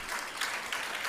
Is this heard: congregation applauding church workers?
yes